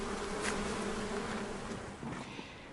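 Honey bees buzz at a beehive in a steady, close drone that swells briefly and then settles, with no talking over it.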